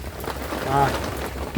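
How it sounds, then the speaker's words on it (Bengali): Steady rain patters on a surface, with a brief voice-like tone rising midway. "এই বৃষ্টি শুরু হলো মনে হয় না আর সারা রাত্রে থামবে"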